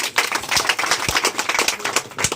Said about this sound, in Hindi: वेरी गुड, जोरदार ताली हो जाएगी।